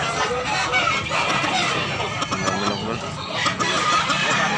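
Chickens at a busy poultry market in Tabunok, Talisay, Cebu cluck and crow steadily and loudly, with overlapping calls from many birds over a continuous crowd murmur.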